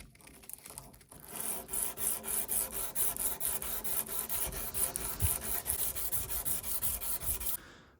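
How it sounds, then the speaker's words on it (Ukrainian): A forged knife blade being sanded by hand with 150-grit sandpaper: fast rhythmic rasping back-and-forth strokes, close and steady for several seconds, then stopping abruptly. "Так, це тільки 150 наждачка."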